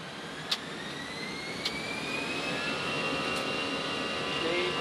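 Iran Air airliner jet engines roar steadily at takeoff thrust, a loud continuous broadband rush with a rising whine and faint clicks from inside the cockpit.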